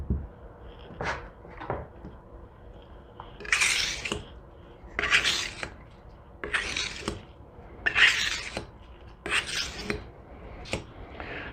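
A kitchen knife blade is drawn over a fine 8000-grit polishing whetstone in slow, regular strokes, each a soft wet rasping swish, about six passes with short pauses, close and alone.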